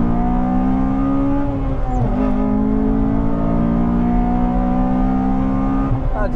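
A Honda Civic Type R FD2 engine revving loudly and close, a continuous high-pitched drone that rises and holds, with a brief shift in tone midway.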